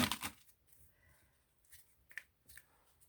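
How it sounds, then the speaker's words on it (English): Close, quiet tarot card handling: a brisk riffle at the start, then scattered soft flicks and slides of cards in a near-silent room. "I'm not as good as the shuffling as some others"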